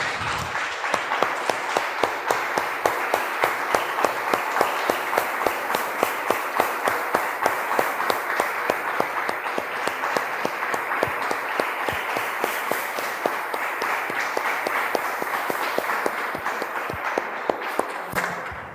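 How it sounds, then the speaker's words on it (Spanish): A church congregation applauds in a dense, steady burst of clapping that carries on for nearly twenty seconds, fairly close and even, before fading at the end. "Damos un aplauso, hermanos."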